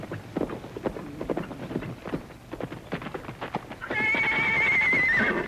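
A horse clip-clops in at a run and then gives a loud, sustained whinny near the end, in a Western outpost setting.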